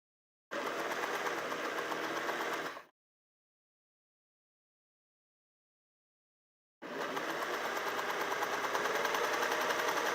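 A sewing machine stitches a quilted pillow cover, running in a steady whirring buzz for about two seconds, falling silent, then starting again and running on at the same even pace.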